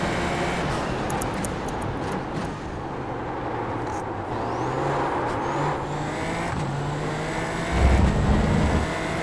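Aston Martin GT4 race car in a racing video game, its engine droning steadily through gear changes with a rise in revs toward the end, moderately loud with no talk.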